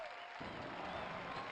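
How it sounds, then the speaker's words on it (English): Crowd applause from the in-game audience in a Tony Hawk's Pro Skater game, a quiet, dense wash of clapping that thickens after a brief lead-in, steady and distant in the game mix. "At least the audience in-game is clapping for me."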